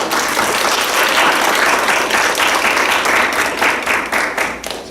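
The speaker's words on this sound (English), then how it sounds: "Let's give Miguel another round of applause" An audience at an academic seminar gives a long, loud round of applause for the speaker Miguel Altieri, dense steady clapping that carries on for several seconds before starting to thin near the end.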